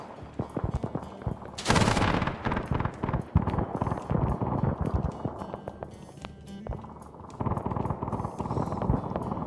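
Dense gunfire in the military shooter Arma 3, a Navy SEAL operation: rapid bursts and single shots crackle close and far, overlapping into sustained volleys with brief lulls.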